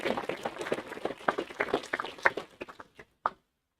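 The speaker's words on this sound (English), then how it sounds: "I think we should give them a round of applause" Scattered clapping from a modest audience at a city council candidates forum, a loose patter of hand claps that thins out and stops after about three seconds with a final few isolated claps.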